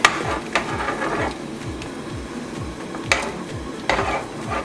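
A spoon stirs black pepper into oxtail in a cooking pot, giving repeated soft scraping strokes in a steady rhythm with a few sharper clinks against the pot, close and moderately loud.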